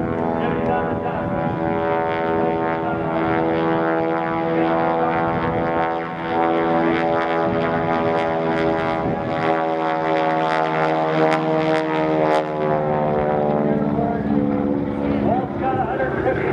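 A propeller biplane engine drones loud and steady throughout an aerobatic stunt at a 2009 airshow, holding a rich harmonic tone that shifts slightly in pitch as the plane manoeuvres.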